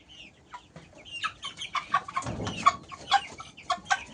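Several white chickens and a rooster cluck and squawk nearby in an irregular, busy chatter at a chicken sale, with a brief low rustle in the middle.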